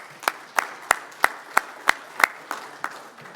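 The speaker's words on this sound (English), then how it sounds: "Let's give David a round of applause as well." Sparse, evenly spaced claps from a conference audience honoring a county sheriff, about ten sharp hand claps at a steady slow rhythm, moderately near, fading toward the end with no talk.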